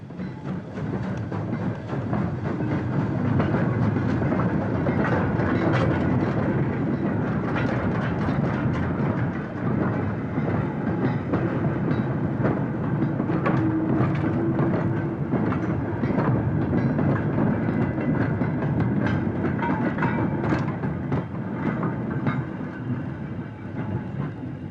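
British Railways steam locomotive 76079, built at Horwich in 1957, runs with a steady rolling rumble and rhythmic clickety-clack of wheels on rail joints, sustained and fairly loud throughout.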